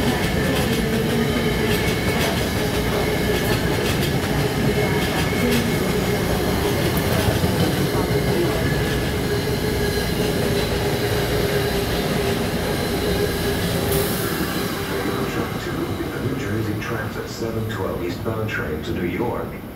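A New Jersey Transit Arrow III passenger train rumbles steadily through Trenton station without stopping, a continuous heavy roar and rattling wheels, while a public-address voice makes an announcement over it.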